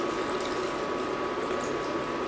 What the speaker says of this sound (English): just pour on the stock or the wine